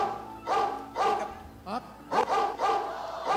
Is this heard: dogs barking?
yes